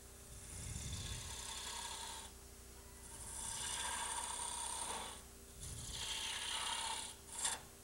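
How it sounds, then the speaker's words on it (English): Skew chisel working wood on a lathe, a steady rasping, scraping cut with a mechanical whirr, broken by brief pauses and ending in a sharp, sudden catch near the close. "there was a skew chisel catch to be proud of"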